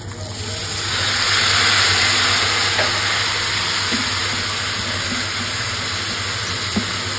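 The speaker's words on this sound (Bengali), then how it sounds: "লবণ, হলুদ, মরিচ এবং যে পেঁয়াজগুলো কাটা ছিল সবকিছু আমি একটু ভাজি করে নেব" Onions frying with salt, turmeric and chili, a broad steady sizzle and hiss close by with a few faint stirring taps and a low hum underneath, no speech.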